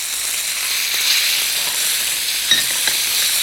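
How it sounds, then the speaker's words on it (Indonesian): Ground spice paste sizzles and fries in hot oil in a pan with bay leaf and galangal added, a continuous bright hissing sizzle with a few soft stirring knocks, close and fairly loud, with no voices. "Sambil menumis bumbu yang dihaluskan, masukkan salam dan lengkuas."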